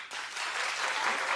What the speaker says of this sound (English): Clap if you're participating in Galentine's Day.